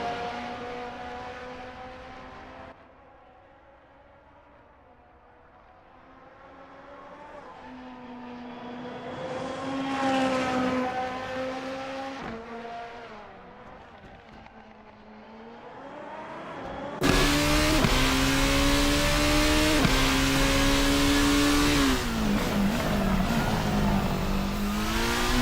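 Race cars lapping the Motegi GP circuit in a racing video game, engines droning and revving with rising and falling pitch, then a louder, closer car roaring at high revs through the second half, with no voices.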